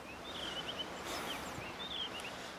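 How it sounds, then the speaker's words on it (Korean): A blue rock thrush calls on the coast of Marado island, giving faint, thin whistled phrases in a couple of short bursts over quiet outdoor ambience. "지금 저기 울고 있는 게 바다 직박구리라는 해안가에서 주로 보이는 새인데"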